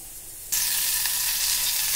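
Cut meat dropped into hot oil in a home kitchen pan, bursting into a loud, steady sizzle after a quiet half-second and frying continuously without any talk.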